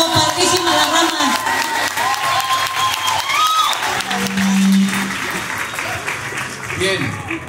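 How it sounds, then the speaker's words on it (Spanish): Strong audience applause for the girls at an award ceremony for a Christmas branch contest in Xalapa, loud continuous clapping with crowd noise and cheering, and voices mixed in throughout. "Aplauso fuerte para las chicas, por favor."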